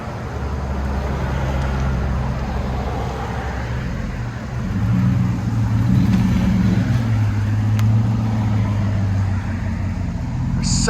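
A 2018 RAM 1500 with a 5.7L HEMI V8 idles through a Flowmaster 40 Series exhaust with 5-inch tips, a steady deep low rumble close by that swells slightly partway through, with no talking over it.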